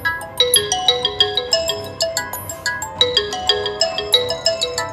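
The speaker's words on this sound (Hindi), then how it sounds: "उधर फ़ोन की घंटी बजती है।" A bright electronic ringtone plays a repeating chiming melody, clear and close, pulsing in a steady rhythm throughout.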